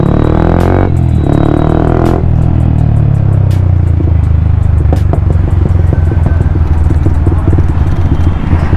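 A Yamaha MT 15 motorcycle engine and exhaust run loud and close with a steady rumbling idle, after a couple of sharp throttle blips early on, then a continuous throaty drone with a crackling edge.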